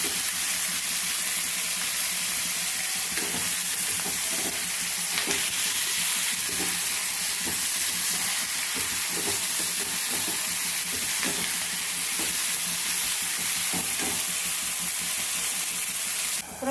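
Toor dal lentils with turmeric and spices frying in oil in a pan for Nellore-style pappu pulusu, a loud continuous sizzle with scraping stirs throughout, no talking.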